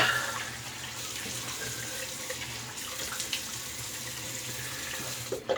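Cold water runs steadily from a bathroom tap into a sink for several seconds, a close, continuous splashing hiss with no talk, while shaving soap is rinsed from a brush.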